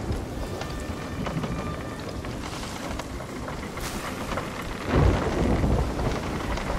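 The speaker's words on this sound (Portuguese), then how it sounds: "Tem trovões que caem em cima do" A thunderstorm at sea in Sea of Thieves: steady heavy rain hissing throughout, with a loud, close rumble of thunder swelling near the end.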